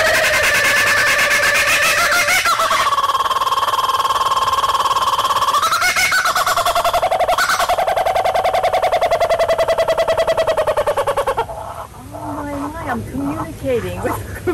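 A person's voice imitates the laughing call of a kookaburra at a wildlife sanctuary in West Palm Beach, Florida: loud, high, rising and falling whoops rolling on for about eleven seconds before breaking into shorter, choppier cackles.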